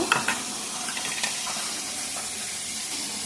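Spices for a small-fish curry fry in a pan with a steady, close hiss and sizzle, a few louder crackles at first, then an even hiss.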